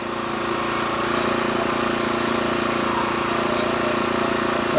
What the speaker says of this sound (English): I'm going to go ahead and use the log turner.